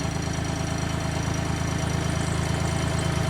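A John Deere 855 compact tractor's engine runs at a steady idle, with a close, even diesel chug and a low rhythmic thrum that holds unchanged throughout.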